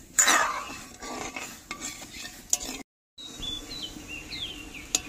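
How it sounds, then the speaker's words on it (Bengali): Sugar stirred into warm water in a pot to make syrup, a spoon scraping and clinking against the metal in loose strokes, close up, with a brief silent gap and a faint bird chirping in the background. "উষ্ণ গরম জলের মধ্যে চিনি দিয়ে দেব। নাড়িয়ে চাড়িয়ে নিচ্ছি।"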